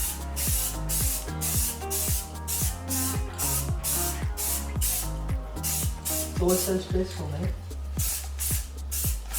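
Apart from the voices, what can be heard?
spray can applying primer to car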